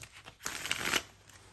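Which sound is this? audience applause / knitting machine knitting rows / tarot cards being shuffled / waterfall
tarot cards being shuffled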